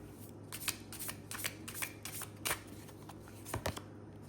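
A Zoltun Mayan Tarot deck is shuffled close up, with quick papery riffles and flicks of cards arriving in irregular bursts over a quiet background.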